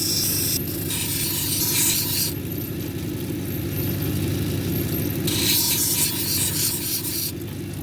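Green zebra jasper cabochon being ground on a lapidary wheel, a steady wet rasping grind with a low motor hum underneath, the scraping brightening in bursts as the stone is pressed against the wheel; no talking.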